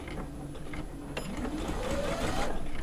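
An Allegro sewing machine runs a seam on a quilt top, a quiet mechanical whir rising slightly in pitch and speed as stitching starts, with a sharp click near the start.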